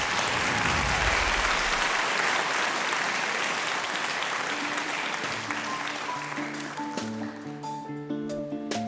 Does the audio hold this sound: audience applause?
yes